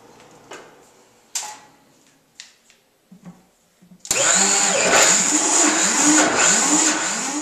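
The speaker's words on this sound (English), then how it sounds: "we're just going to tuck those into the Vitamix with the coconut chips and give it another good blend" A Vitamix blender blends medjool dates and coconut chips. A few scattered clicks and taps come first, then the motor roars in loud and close at about four seconds and runs steadily to the end.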